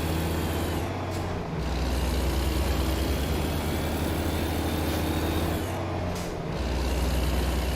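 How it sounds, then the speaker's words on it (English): Truck driving in American Truck Simulator: a steady, loud engine and road drone with rumbling low end that holds continuously, briefly dipping twice as if shifting or easing off. "It's quite interesting driving a truck like this."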